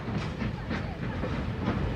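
A special passenger and freight train on a railway through the Tian Shan mountains runs steadily on its rails, a continuous low rumble with faint periodic clicks from the wheels.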